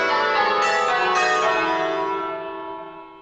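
Church bells ring changes, a run of overlapping bell strikes that blend into a shimmering ring and then decay gradually toward silence, with no talking over them.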